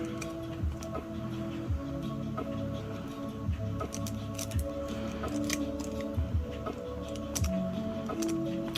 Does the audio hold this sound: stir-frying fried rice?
no